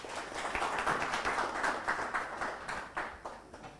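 Audience applause at a sales masterclass event, a steady wash of many hands clapping at moderate distance, sustained for a few seconds and tapering slightly at the end, with no voices over it.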